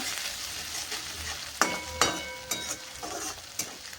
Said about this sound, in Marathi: आता आपण टाकू याच्यामध्ये कढीपत्ता याला छान प्रकारे असं फ्राय करून घ्या